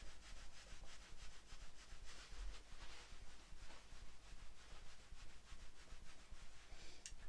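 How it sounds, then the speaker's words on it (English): Hands rubbing briskly together and then rubbing over the lower back during a tai chi session, a soft continuous friction with a steady back-and-forth rhythm, close and fairly quiet, no talking. "rub the hands together again and give your lower back a rub."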